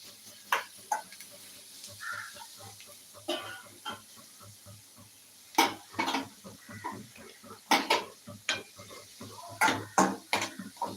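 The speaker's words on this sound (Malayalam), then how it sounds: "നന്നായിട്ട് ഇളക്കി കൊടുക്കുക" Cabbage stir-fry being stirred in a pan, with repeated scraping and clattering strokes of a utensil over a soft sizzle, close and irregular, with no talking.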